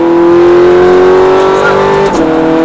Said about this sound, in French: Ne lève pas le pied de l'accélérateur, accélère.